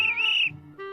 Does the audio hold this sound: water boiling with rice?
no